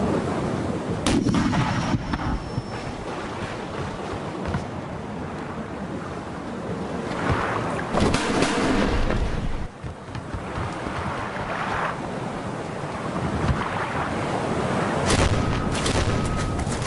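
Heavy booms from a sailing ship's broadside cannon fire in a pirate battle strike several times at intervals amid a constant roar of stormy wind and sea waves.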